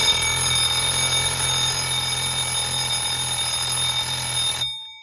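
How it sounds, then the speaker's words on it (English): An Allegro alarm clock rings loudly and continuously with a steady bright metallic tone for several seconds, then stops abruptly as it is switched off. "So that's how you shut the alarm off."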